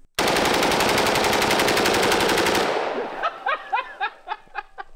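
A long, rapid burst of 7.62x39 rifle gunfire rattles loudly for over two seconds, followed by a handful of separate shots echoing with gaps between them.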